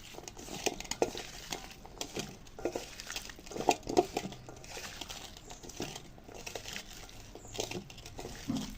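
Potatoes and pabda fish being mixed by hand with spices in a bowl: soft squelching and patting with scattered clinks against the bowl, irregular and close, no talking.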